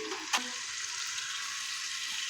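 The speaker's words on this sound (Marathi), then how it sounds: "पावभाजी मसाला आणि गरम मसाला पण जास्त परतायचा नाही फक्त एक मिनिटभर हे परतायचे आहेत" Pav bhaji masala and garam masala sizzling as they sauté in a pressure cooker, a steady close frying hiss with one brief clink of a stirring spoon near the start.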